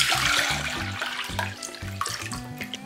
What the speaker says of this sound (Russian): В кастрюлю вливаем воду.